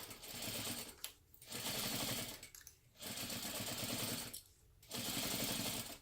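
A sewing machine stitches the flap of a crossbody bag in three bursts of rapid, even whirring, each broken by a short pause, loud and close with no talk.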